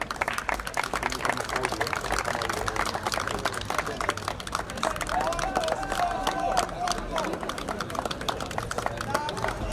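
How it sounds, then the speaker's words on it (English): Crowd applause at an outdoor Masters hockey presentation for the Nakuru team: a dense, steady patter of many hands across the whole stretch, with a voice talking over it. "A round of applause for Nakuru."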